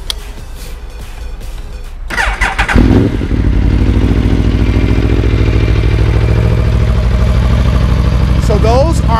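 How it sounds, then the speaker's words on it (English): An Aprilia RSV4 RF motorcycle engine with stock exhaust fires up after some clatter and settles into a steady, loud, close idle that burbles through the exhaust. "let's hear how the stock exhaust sounds"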